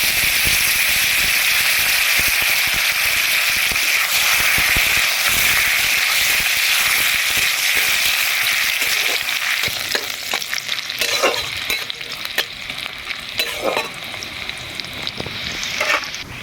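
Chopped onions hit hot oil in a wok and fry with a loud, dense sizzle, then settle into steady crackling broken by repeated stirring scrapes near the end. No voices are heard.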